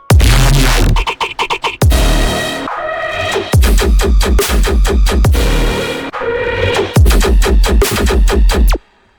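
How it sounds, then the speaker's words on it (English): Loud tearout electronic music drop with booming, pulsing bass hits and choppy, gated stabs, driving in a heavy rhythmic pattern before cutting off abruptly. "processing them into a drop that sounds like this"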